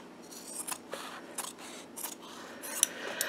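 Scissors cut through quilting fabric, giving a close, quiet series of about six crisp snips spaced roughly half a second apart.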